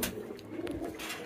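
Pigeons cooing softly in a crowded loft where a newly added bird is squabbling over a nest of eggs, quiet murmuring coos with no talk.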